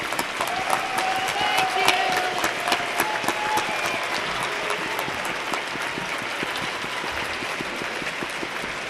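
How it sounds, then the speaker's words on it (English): Graduates at the 2008 University of Oregon main commencement applaud their families and friends, a dense, sustained wash of clapping from a large crowd that holds steady throughout with faint voices mixed in. "Please turn around and offer them a round of applause."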